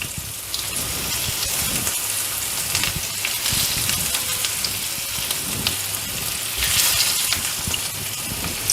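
Steady, dense sizzling and crackling of stuffed bitter gourd frying in hot oil, continuous and close, with brief louder bursts of spitting.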